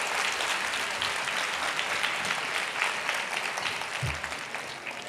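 A big round of applause for student leaders at a school annual day dance fest, dense, steady clapping from a large crowd filling the hall for several seconds, moderately distant.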